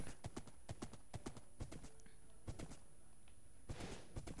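Horse hooves clip-clop steadily in Minecraft on the Paradox SMP server, a run of sharp, evenly spaced game footsteps that continue through the stretch, close and fairly loud over a low background.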